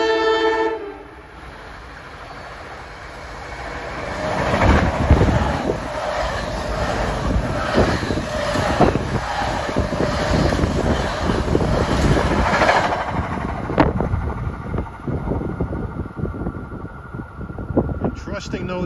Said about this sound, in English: Approaching now at 527, this could be 3949, another one of those Princeton Junction expresses from Newark with arrows